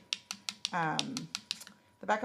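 The back of a brush taps a dry acrylic nail in a quick series of light, crisp clicks, close and clear, with someone speaking briefly between the taps.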